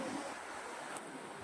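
Sea waves wash steadily onto the shore of Moosumi Island, a continuous broad hiss of surf mixed with wind rumble across the mic, with no voices.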